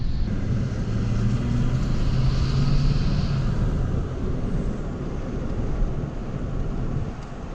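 An LBZ Duramax diesel truck fitted with a 4-inch straight pipe runs close by, giving a loud, deep, continuous rumble with a rising turbo whistle partway through. No one speaks over it.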